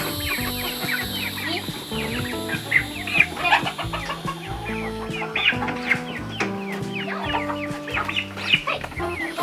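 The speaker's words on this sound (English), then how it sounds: "Chicken." Chickens clucking on a homestead, a busy mix of repeated clucks and squawks from several birds close by, continuous and lively with no talk.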